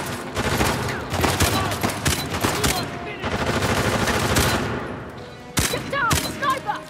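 Sniper and rifle fire in the video game Uncharted Lost Legacy: repeated bursts of loud gunshots crackle in quick volleys, broken by short pauses, with a single sharp shot near the end and faint voices underneath.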